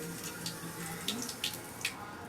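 Water runs steadily from a tap into a sink as a soft continuous hiss, with a few faint clinks and splashes over it.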